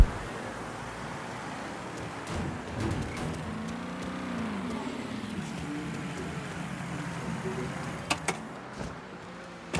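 Game car in Mafia 3 pulling up, engine hum and tyre rumble building near the middle and easing off, with music and ambient game sound beneath.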